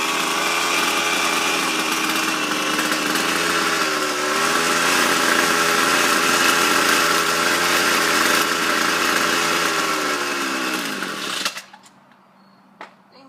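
A gas-powered weed eater engine runs roughly on a cold start, its two-stroke buzz wavering and bogging down under throttle before sputtering out, leaving near silence with a few faint knocks.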